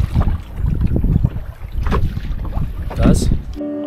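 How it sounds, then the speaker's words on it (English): Strong wind gusting and roaring into the microphone while someone paddles a canoe across a lake, with water sloshing and a voice speaking over the rumble. "Oh, this wind is so strong."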